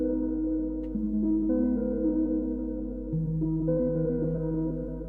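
A dark music sample pitched down through an Eventide H949 harmonizer: sustained, low, muffled tonal chords that shift pitch a few times, playing alone at steady volume with no voices.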